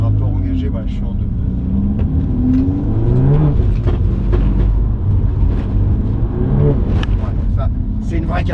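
A four-wheel-drive car engine revs and rises in pitch while drifting in second gear, loud and close, with rising and falling engine tones throughout and people talking over it.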